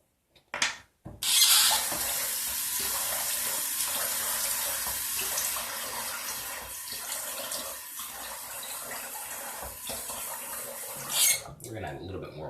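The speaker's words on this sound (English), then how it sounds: "We're going to add a little bit more water to that." Tap water runs steadily into a sink for about ten seconds while adding water to a tallow-based Tim's Soap Hybrid Gen. 2 shaving lather, with a brief splash at the start and faucet clicks at the end.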